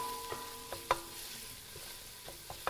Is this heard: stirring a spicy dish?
yes